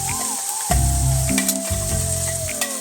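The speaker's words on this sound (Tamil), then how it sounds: "வாசனை வந்த பின்னாடி நம்ம இந்த அரைச்ச மசாலா ஊற்றிடணும்" Ground masala paste poured into garlic and onions frying for a Tamil fish kulambu, a loud close sizzle that surges as the paste hits the oil, with a steady hum underneath and no talking.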